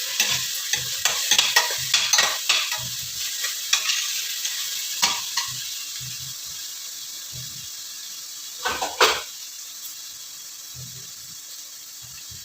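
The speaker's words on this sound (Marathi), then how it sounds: "कांदा आणि टोमॅटो छान परतवून घ्या." Chopped onion and tomato frying in a pan for Dhaba-style whole masoor, a steady sizzle broken by repeated scraping stirs of a spoon, dense at first and then sparser and quieter.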